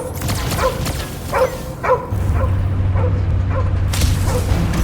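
A dog barks repeatedly in the video game Guardians of the Galaxy: several short, sharp barks spaced through the first few seconds over a steady low hum and game ambience.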